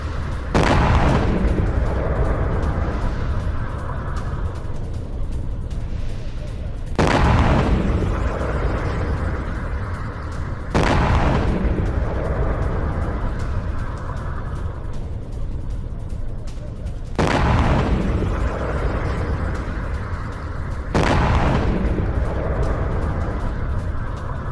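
Explosions from an Israeli strike on an Iranian military base in Kurdistan, heard as about five loud, deep booms spaced a few seconds apart over a constant heavy rumble.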